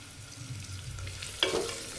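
Onions, curry leaves, green chillies and cashews frying in hot oil for coriander rice, a soft steady sizzle with a brief louder crackle partway through, heard alone.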